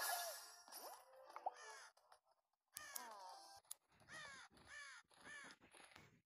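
Ravens in a Disney kingdom video game give a series of harsh caws, several distinct calls in bursts with short pauses, loud and close against a quiet game background.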